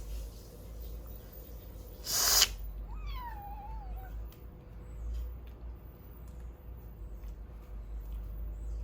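A cat gives a single short, wavering meow at moderate distance in a quiet home, preceded by a brief sharp noise and followed by a faint low hum.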